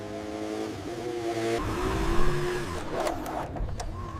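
The Ecosse ES1 Spirit motorcycle engine climbs in pitch through its gears, then a harsh, gritty roar swells and fades near the end.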